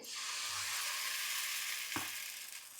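Appam batter poured into a hot appam pan and swirled on low heat, producing a steady, soft sizzle that holds evenly, with one brief clank of the pan near the end.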